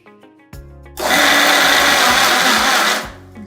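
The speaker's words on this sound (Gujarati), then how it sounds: "હવે આપણે આ જે પૌવા છે એને મિક્સરમાં ક્રશ કરવાના છે." An electric mixer grinder crushes soaked poha (flattened rice) for dahi vada, its loud whirring grind running steadily for about two seconds after short motor starts, alone with no voices.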